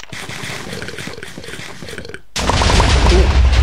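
Minecraft video game combat with guns and TNT, rapid gunfire bursts followed by a sudden loud booming explosion roar, all close and harsh.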